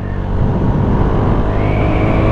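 A 2017 KTM Duke 390 single-cylinder motorcycle engine pulls hard under acceleration, a loud, steady, close drone whose pitch climbs toward the end.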